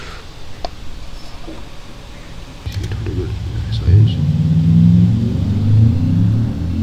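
An Audi 4.2 liter FSI V8 in a BeamNG video game car builds from a low idle into a loud, steady engine drone that swells and rises through the second half, with a few faint clicks before it.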